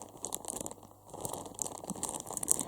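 A plastic bag holding a kiwi toy is handled, giving irregular close crinkles and rustles that rise and fall, with no speech over them.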